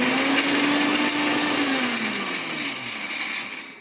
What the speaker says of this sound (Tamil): எல்லாத்தையும் பேஸ்ட்டாக அரைச்சி எடுக்க போகிறோம்